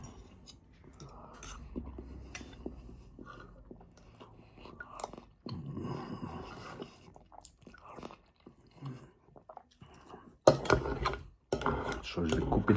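Someone eats Asian-style pasta with plain mackerel using a fork, giving close, intermittent clicks and scrapes of the fork on a dish with soft chewing in between. The sounds come in scattered bursts with quiet gaps and grow louder near the end.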